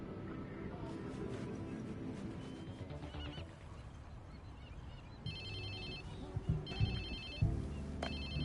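Phone ringing in the video game Watch Dogs 2, a repeated electronic ringtone in bursts that begins partway through over game ambience and sound effects, fairly close and clear.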